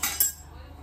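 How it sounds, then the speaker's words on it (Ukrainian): Dishes being wiped dry in a home kitchen, giving two quick bright clinks of crockery and cutlery close by in under a second, then a soft fading tail. "Перетираю посуд"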